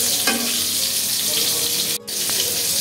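Hilsa fish pieces frying in a pan, a steady broad sizzle that holds throughout with a brief dip and a sharp clatter near the end.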